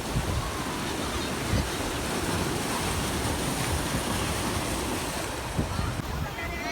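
Sea surf rolls against a hillside shoreline in a steady wash of waves, mixed with heavy wind rumble on the microphone.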